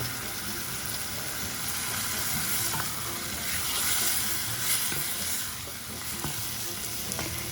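Chopped sweet cherry tomatoes sizzle in a pan over medium heat, a steady crackling fry with occasional stirring scrapes, close and continuous.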